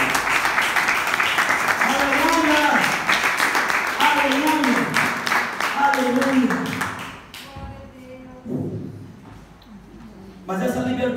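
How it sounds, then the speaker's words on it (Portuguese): A church congregation applauds with dense, steady clapping under a voice, the applause thinning out partway through before a brief burst returns at the end. "Dê um aplauso ao Senhor."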